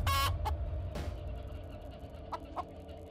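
Quiet video game chicken clucks come in a few short bursts over a low background hum, with no talking.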